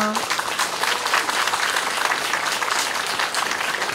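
Steady, dense applause from a large crowd at a memorial for the first anniversary of the Itaewon crowd crush, sustained throughout without a break.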